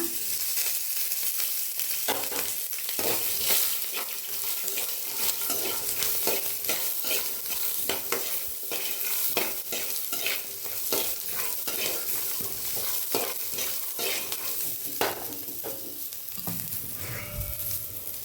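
Four unripe tomatoes fry with onion in a spoon of oil, a constant close sizzle overlaid with frequent scraping and stirring strokes against the pan, with a faint voice now and then.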